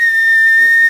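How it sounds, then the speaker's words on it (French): A person whistles one steady, sustained high note, loud and close, lasting under a second and stopping abruptly, with no talking over it. "Siffle comme moi là?"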